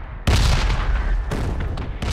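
Explosions in the battle royale game PUBG: a loud booming blast hits suddenly, followed by a second and third burst in quick succession, close and heavy, with rumbling decay between them.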